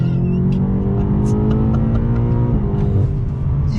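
A 2020 BMW M8 Competition sports car accelerates hard, its engine note a loud, continuous close-up roar that rises in pitch, with a brief crackle at about the midpoint. No one speaks.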